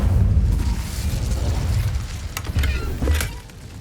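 A single fiery burst from the Incendio spell in Hogwarts Legacy roars up loud and close, a low rumbling whoosh that fades out over a few seconds.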